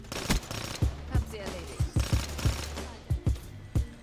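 Repeated Pharo gunfire in Black Ops 3 on PS4, a Kill Confirmed match, with sharp, punchy bursts of two or three shots each at an irregular rhythm, loud and close throughout the stretch.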